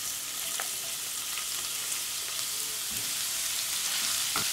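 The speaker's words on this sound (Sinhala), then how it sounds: "ඒක දාලා චුට්ටක් ෆ්‍රයි කරගමු." Finely sliced garlic, three cloves, frying in hot oil in a pan, giving a steady, dense sizzle that holds evenly throughout, close up with faint clicks of stirring.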